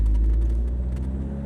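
A sports car climbs uphill with a steady, close engine rumble and road noise over a short stretch. No voices can be heard.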